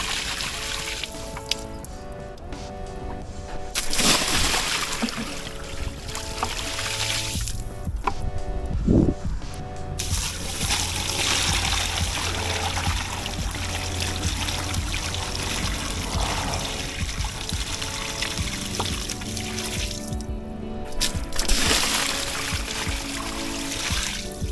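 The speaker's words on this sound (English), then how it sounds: "here's just my next handful of bucketfuls that I'm dumping out" Buckets of cloudy, sediment-laden water drained from a hot water tank being dumped out, heard as repeated splashing pours and trickles with some clanking, mid-distance and fairly steady throughout.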